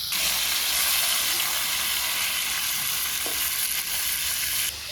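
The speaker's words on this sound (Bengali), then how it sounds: "এখন আস্তে আস্তে মাছগুলো ভেজে নেব" Fish sizzle loudly in hot oil in a kadai, a steady, close crackling hiss that continues without a break.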